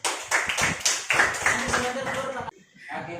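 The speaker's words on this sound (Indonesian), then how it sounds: "Tepuk tangan untuk dia dulu." A classroom of students claps for a classmate during a lesson, giving a quick burst of dense hand claps that stops abruptly, mixed with children's voices talking.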